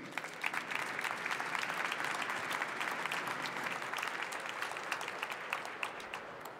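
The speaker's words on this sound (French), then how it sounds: "on peut l'applaudir" An audience at a French workshop session applauds the speaker Simon with steady, moderately distant clapping that holds evenly for several seconds before easing slightly at the end.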